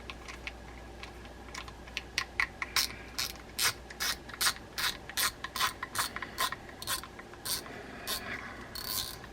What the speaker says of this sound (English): Put the click button back on.